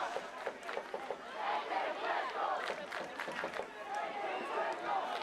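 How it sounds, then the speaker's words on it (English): High school football fans cheer and shout in the stands during a Salem versus Centralia game, a steady distant crowd roar with scattered yells and whoops, and voices talking over it. "I can hear the high school fan bases"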